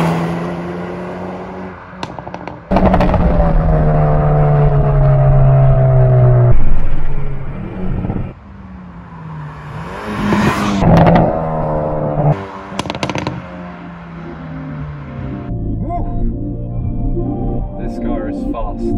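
A 2021 Hyundai i30 N Performance facelift launches hard, its engine note climbing through the revs with sharp gear-change breaks and pops and crackles between shifts. A voice can be heard inside the cabin.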